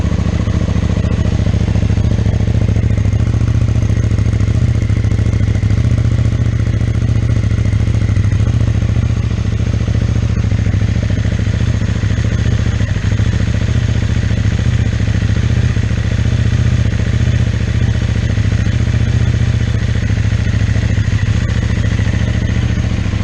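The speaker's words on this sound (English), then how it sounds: "Why don't I just stop talking and fire her up?" A 2022 KTM Duke 890R with a Black Widow exhaust and noise-reducing insert fires up cold and settles into a loud, steady, close idle, with a constant low rumble and light mechanical clatter and no talking.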